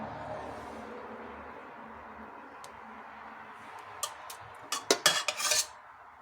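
A spoon scooping curd into a dish, heard as a quiet start and then a quick cluster of sharp clinks and scrapes of metal on a dish near the end, close by.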